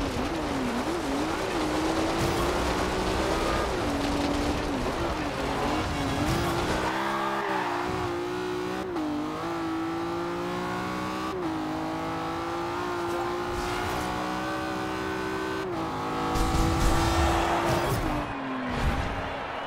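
A 1980 Abarth Fiat 131 rally car is driven offroad in the Forza Horizon 2 racing game. Its engine revs and drones continuously near the listener, rising and falling through gear changes, with occasional tire skids and squeals.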